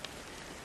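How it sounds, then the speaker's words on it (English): Rain drips steadily from a bus stop roof on a cold, rainy night along a wet street, a dense soft patter that fills the short moment. "Raindrops fell from the roof of the bus stop, making a steady sound."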